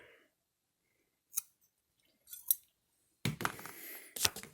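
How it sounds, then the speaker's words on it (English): Scissors snip model rocket parachute material a few times, sharp metallic clicks spaced apart, then a louder crunching cut near the end, close and otherwise quiet. "just get my scissors and make a cut right here"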